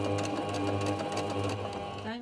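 A sewing machine stitches an old sweater with a steady, fast mechanical whir and rattle, close and continuous, winding down at the very end.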